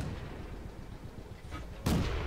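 Enemy artillery fires in a tank battle game, with the FT-AC tank in play: a soft, distant rumble that ends in one sharp, louder blast near the end.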